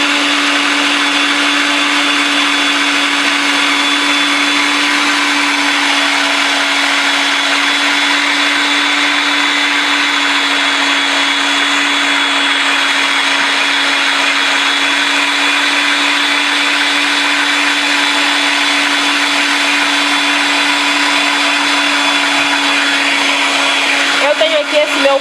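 A stand mixer whips orange chiffon cake batter with a loud, steady, unbroken whir that holds for the whole stretch, with a faint clatter near the end.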